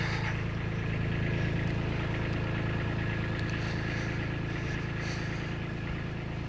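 A Kubota B2601 compact tractor with 115 hours on it runs at a steady idle-like hum, continuous and fairly faint, used for moving dirt on a hill.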